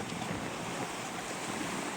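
Big Pacific Ocean waves on the Salish Sea coast make a steady, loud roar of surf mixed with wind rushing across the microphone.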